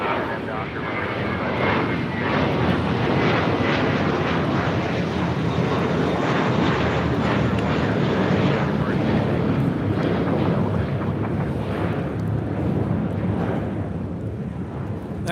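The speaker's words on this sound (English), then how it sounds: "That was American 2201 taking off to JFK on an A321." American Airlines Airbus A321 jet taking off at LAX, a heavy, powerful engine roar building and holding loud for most of the stretch before easing off, with wind buffeting the microphone.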